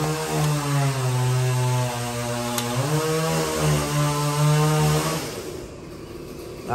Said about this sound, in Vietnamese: Khách đang test cơ xích, nó hơi ồn.